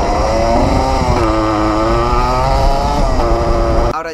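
A 49cc motorcycle on an off-road enduro ride across open countryside, its small engine buzzing loud and steady throughout with shifting pitch as it revs and eases, then cutting off abruptly at the end.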